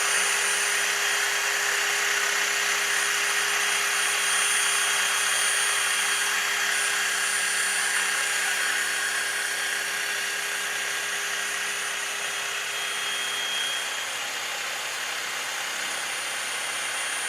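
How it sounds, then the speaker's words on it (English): A bench wire wheel scrubs rust and grime off the threads of a tie rod end for a 2008-2020 Dodge Grand Caravan, a steady high, hissing whir that holds close and even throughout with no talk. "I might actually hit the bulk of this with the wire wheel just to get most of it off."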